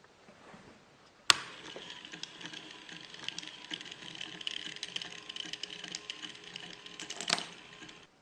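A motor-driven wooden domino-laying robot with a spinning nail axle and a third wheel starts with a sharp knock, then runs with continuous rattling, clicking clatter for several seconds before a final clack.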